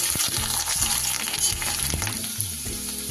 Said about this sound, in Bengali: কচুটা একটু ভালো করে নেড়ে দেব আগে।